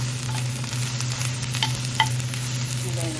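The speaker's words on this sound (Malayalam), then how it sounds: "എണ്ണ ചൂടായിട്ടുണ്ട് നമുക്ക് ഉള്ളി ഇടാം കേട്ടോ അപ്പം ഞാൻ ഉള്ളി ഇട്ടിട്ടുണ്ട് കുറച്ച് കരിയാപ്പില ഇട്ടിട്ടുണ്ട്" Onions and curry leaves fry in hot coconut oil, giving a steady close sizzle with faint stirring scrapes throughout and no talk.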